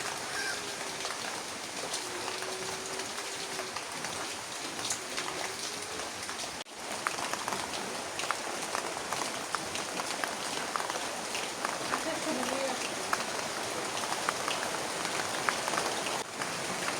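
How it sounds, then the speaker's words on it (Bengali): Light morning rain patters steadily on surfaces outdoors in a village, a continuous soft hiss with scattered drips and faint background activity, no clear talking. "সকাল সকাল বৃষ্টি শুরু হয়ে গেল"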